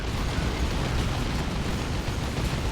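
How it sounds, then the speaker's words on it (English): Grenade barrage from Heretic units in Dawn of War 2: Retribution, a 3v3 Chaos versus Orks battle, as a dense continuous roar of overlapping explosions and bursts, steady and loud throughout with no clear gaps. "Heretics chucking in some grenades. That was the barrage which has disrupted the mech boy"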